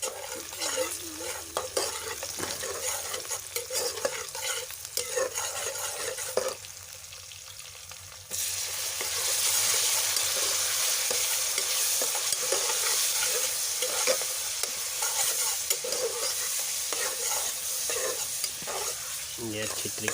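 Brinjal for baingan bharta roasts and fries in a pan with a continuous bright sizzle and frequent stirring scrapes, close and steady across the stretch, briefly dipping before surging louder, with no voices.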